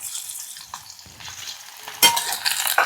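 Garlic cloves drop into hot oil in a pan, giving a quiet crackling sizzle that bursts louder near the end with sharp spattering pops.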